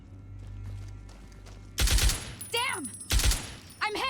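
Marksman rifle shots ring out in Fallout New Vegas, two loud sharp cracks about a second apart, each followed by ringing echoes and whooshing tails, over a low ambient drone.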